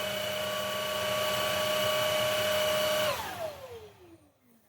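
VacLife VL732 stick vacuum running with its brush roll at the slowest speed, a steady high motor whine that shuts off and winds down with a falling pitch into quiet; close, no speech.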